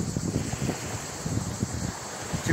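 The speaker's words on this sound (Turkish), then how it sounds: "Şimdi hem rüzgar çok fazla hem dalga çok fazla." Strong wind buffets the microphone in gusty low rumbles, with surf and heavy foaming waves around a Marin Boat Samba Long out at sea in a storm; steady, loud, no voices.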